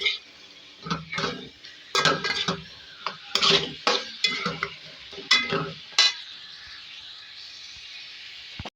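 Chicken fries in a pot with garlic-ginger paste, a close run of clanking spoon stirs and scraping against the metal over a soft continuous sizzle, busy for six seconds before settling into quieter frying.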